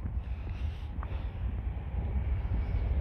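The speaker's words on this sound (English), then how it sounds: "There's a lot of choo-choo train." A train passing near a car park in Milton Keynes, a low steady rumble at moderate distance with wind buffeting the microphone and no voices.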